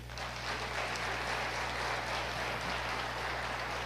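A church congregation applauds during a worship service, a steady broad wash of clapping held at an even level from start to finish, with a low hum underneath.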